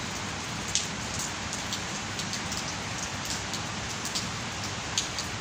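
Steady rain falls continuously, a dense even hiss of drops on surfaces with a few sharper nearby drips standing out, with no talk over it.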